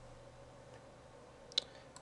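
A single sharp mouse click rings out while a map point is dropped in mapping software, followed by a fainter second tick against a quiet room hum.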